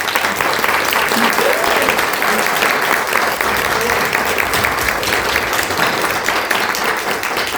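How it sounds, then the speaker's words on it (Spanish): Sustained, dense applause from a lecture audience at an academic talk on Teotihuacan and Mesoamerican mineral exchange, filling the hall evenly and loudly throughout with little variation. "brindémosle un fuerte aplauso."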